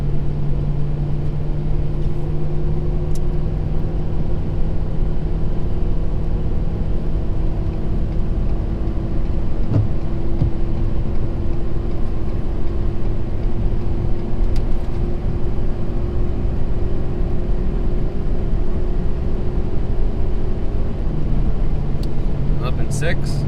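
A 2017 Ford 6.7 Powerstroke diesel truck towing 30,000 lbs in fifth gear gives a steady, loud, low engine drone with a continuous hum, shifting pitch slightly near the end.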